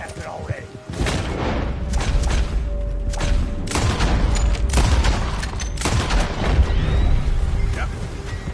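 Gunfire and explosive booms in the video game Red Dead Redemption II, loud and continuous with repeated shots and blasts over a rumbling battle din, and voices talking throughout.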